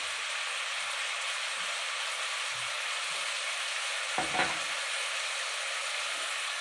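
Vegetables for a veg biryani sizzling in a pan as half a teaspoon of turmeric goes in, a steady close frying hiss throughout with a brief scrape of stirring midway, no talk.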